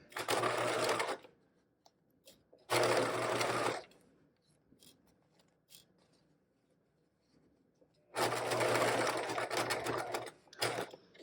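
A sewing machine stitches side pockets onto a fabric caddy bag in three loud, rapid mechanical bursts, with quiet pauses between runs where the fabric is pivoted.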